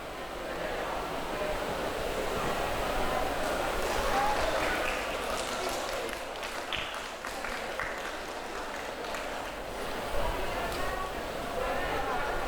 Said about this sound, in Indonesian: Tepuk tangannya lebih keras boleh?